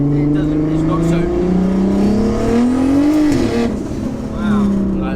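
A 900bhp Audi A3 with a turbocharged 3.2 engine pulls hard from inside the cabin, the engine note climbing loud and strained, then dropping sharply at a gear change before rising again, with a voice talking over it.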